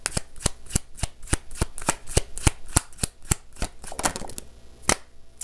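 Tarot cards shuffled by hand, a rapid series of crisp riffling snaps in a steady rhythm, close and clear, with no voice over them.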